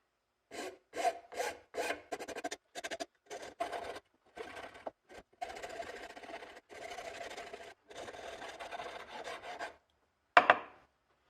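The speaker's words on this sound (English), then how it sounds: "And I'll grab a rasp. Clean it up." A rasp files excess material off a wooden rifle stock held in a vise, making a run of close, scratchy back-and-forth strokes. Quick short strokes give way to longer ones, with pauses between, ending in one sharp knock.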